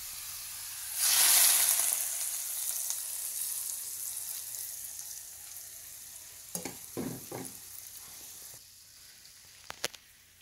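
Garlic frying in hot oil in a pan gives a loud burst of sizzling that settles into a steady, fainter crackle, with a few short stirring scrapes near the end and no talk.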